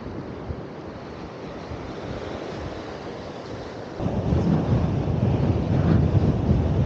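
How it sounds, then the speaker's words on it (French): Strong wind gusts buffet the microphone on a beach at Tarifa, with surf behind them. The roar is steady and broadband, then swells louder and rougher partway through, and no one speaks. "Ils annonçaient des rafales jusqu'à 65 km/h, alors ça souffle."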